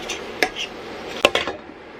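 Ground meat being broken up in a pan on the stove, heard as a few sharp scraping and tapping knocks of a utensil against the pan at irregular moments over a low, steady background.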